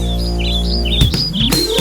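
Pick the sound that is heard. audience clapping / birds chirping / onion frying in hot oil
birds chirping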